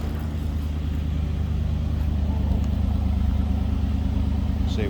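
A 1986 Chevrolet Camaro IROC Z28 idles, heard from the back at close range, a steady even engine rumble with a smooth, unhurried pulse and no talking.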